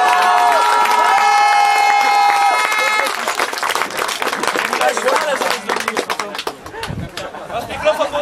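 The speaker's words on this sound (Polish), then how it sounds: "Jeszcze raz wielkie brawa" At an American football stadium, a crowd cheers and applauds after a long run, with a loud public-address voice and music over the noise, then scattered claps and shouts.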